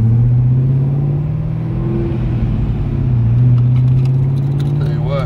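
Chevrolet Camaro engine rumbling steadily and loud from inside the car while turning onto Pacific Coast Highway, a deep sustained drone with slight rises, under a voice talking.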